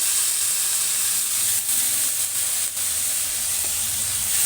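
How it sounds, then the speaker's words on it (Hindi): Steady, dense hiss of sizzling chicken jalfrezi as soy sauce goes into the hot pan, a continuous bright frying sound heard close with no voices over it. "इसमें सोया सॉस डाल देना"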